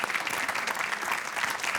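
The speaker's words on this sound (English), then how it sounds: "let's just clap for them" A studio audience claps together, a dense even patter of hands at moderate volume with no voices over it.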